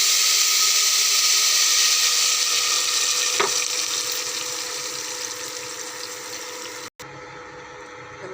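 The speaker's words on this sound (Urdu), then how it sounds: "اب میں اس پیسٹ کو آئل میں ڈال دوں گی۔" Tomato paste hits hot oil for a bhindi salan, giving a loud, steady sizzle and frying hiss that fades gradually, with a brief stir sound partway through and a short break near the end.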